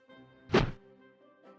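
Croquet shot in the Discworld 2 video game, a single sharp wooden thunk over a soft background music bed, with the start of another sound cut off right at the end.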